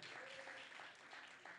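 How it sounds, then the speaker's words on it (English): A church congregation at a Sunday service keeps clapping, a faint, distant, steady patter of many hands with a low voice faintly audible under it. "Continue clapping."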